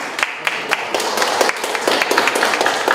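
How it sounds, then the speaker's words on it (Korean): Audience clapping in a lecture hall at a security and democracy forum in Korea, welcoming a speaker to the podium; a steady, moderately dense patter of hands with a few sharper individual claps standing out. "여러분 큰 박수로 환영해 주십시오"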